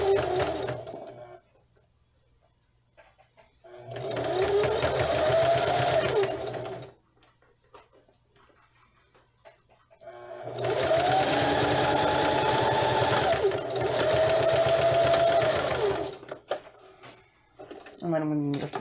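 A sewing machine stitches fabric for a scrunchie in two runs of steady, fast mechanical whirring and needle clatter, close by, separated by quiet pauses with someone speaking.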